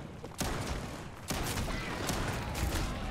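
Shotgun blasts in the Starfield video game, several loud booming shots at irregular intervals with heavy low rumble, close and forceful, with no talk over them.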